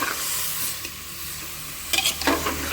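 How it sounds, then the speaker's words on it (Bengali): Potatoes sautéing and being stirred in a pressure cooker, a steady close sizzle broken near the end by a few sharper scraping strokes; no voices. "এবার ঢাকা দিয়ে দিয়ে ভালো করে কষে নেব"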